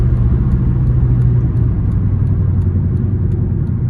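Engine of a 2007 Honda Civic LX under throttle, a loud, steady low rumble and drone heard from inside the car for the whole stretch, with no voices.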